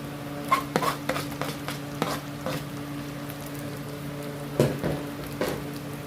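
Rice and potatoes are stirred through masala in a pan for aloo biryani, with a low continuous sizzle and repeated scraping and knocking strokes of a spoon at an uneven rhythm.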